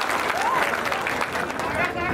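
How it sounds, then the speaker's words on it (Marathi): A crowd at a political speech applauds to congratulate Nitesh Rane, giving a busy wash of clapping mixed with crowd babble and voices. "नितेश राणेंचं टाळ्या वाजवून जरा अभिनंदन करा."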